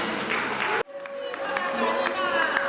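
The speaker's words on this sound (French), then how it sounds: "Applaudissons nos religieux du Sacré-Cœur de Jésus" A crowd at a celebration of the feast of Saint Madeleine-Sophie Barat applauds the religious of the Sacred Heart of Jesus, clapping and cheering that cuts off abruptly, then resumes as scattered clapping under voices and music.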